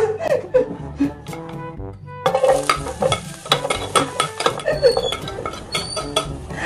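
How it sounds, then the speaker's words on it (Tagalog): Onion and garlic sizzle in hot oil in a pan, a steady crackle stirred through with scraping and light clinks, a few laughs and bits of talk mixed in. "Ayan, minit na yung kawali. Ilalagay ko na yung sibuyas tsaka bawang."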